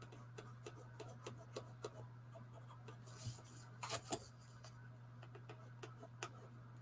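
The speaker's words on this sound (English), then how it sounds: "Maybe throw a little bit of texture in with that grease pencil, wax pencil." A grease pencil (wax pencil) scratching texture onto a drawing, heard as a run of short, quiet, close-up strokes and ticks at an irregular rhythm over a steady low hum.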